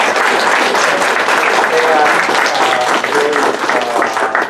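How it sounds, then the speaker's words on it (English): An audience claps steadily for an award recipient at a psychology lecture event, a dense, sustained round of applause filling the room, with a voice faintly heard over it. "give her this award in a round of applause"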